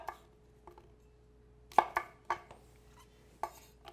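A Nakiri knife cuts through an apple on a board, giving a handful of sharp, separate knife thuds at uneven intervals, quiet and close in a still room.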